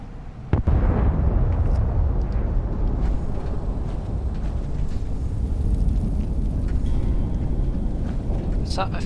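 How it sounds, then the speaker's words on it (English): A distant nuclear bomb detonation in the video game Fallout 76, a sustained low rumble that starts with a sharp onset and rolls on steadily, heavy and booming throughout. "I feel like I can hear a nuke."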